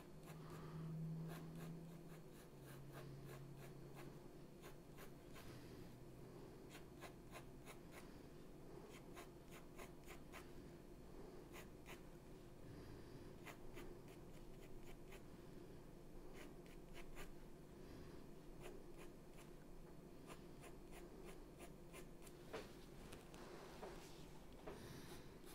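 Graphite pencil strokes sketching strands of hair on paper: soft, continuous scratchy rubbing in short repeated passes, close and quiet, with no voices.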